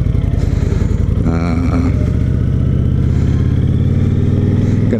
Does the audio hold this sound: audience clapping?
no